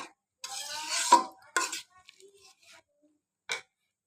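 Boiled masoor lentils are stirred in a pot with a spoon, giving a few close, scraping strokes in the first two seconds, then faint scrapes and one short clink near the end.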